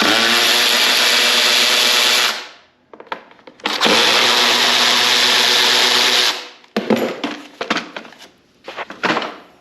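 A cordless power driver loudly backs 8mm screws out of the top cover of a Briggs & Stratton 550EX lawn mower engine, in two long whirring bursts and then several short ones, no one speaking.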